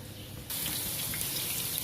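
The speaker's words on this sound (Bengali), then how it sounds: "এই দেখতে পাচ্ছেন ভাতের পানিটা আমি জড়াই ফেলছি।" Starchy water from a pot of cooked rice is poured off and splashes out in a sudden, steady gushing stream that starts after a short quiet moment and keeps running.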